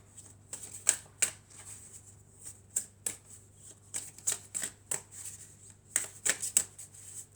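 Oracle cards are shuffled by hand in repeated quick riffles and flicks, crisp and close, with short pauses between bursts over a quiet background.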